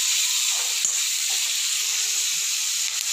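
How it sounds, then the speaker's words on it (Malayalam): Onions and curry leaves sizzle and sauté in a hot pan, a steady close frying hiss that runs throughout with faint stirring scrapes and no talking. "നന്നായി ഇതൊന്ന് വഴറ്റണം. ഉള്ളിയൊക്കെ നന്നായി വാടി വരണം."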